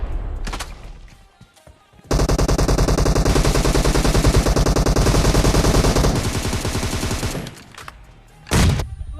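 Automatic gunfire in the mobile game PUBG: a few scattered shots, then a long, loud, rapid burst of machine-gun fire lasting about four seconds, followed by another short blast, with no talk.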